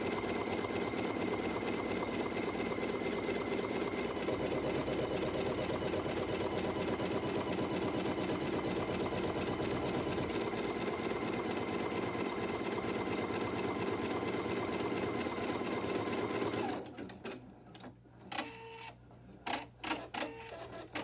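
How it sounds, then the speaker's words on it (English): An embroidery sewing machine stitches around a design for a gnome table topper, a steady, dense mechanical whir running loud and continuous before stopping abruptly near the end, leaving quieter intermittent clicks. "then it is stitching around that design."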